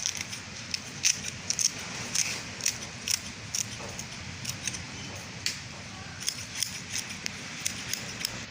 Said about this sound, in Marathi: याला कैचीने छोटं छोटं बारीक कापून घ्यायचं आहे